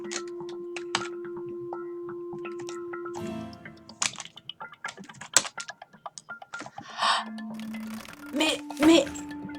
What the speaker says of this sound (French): Je suis une bourrine avec mon clavier.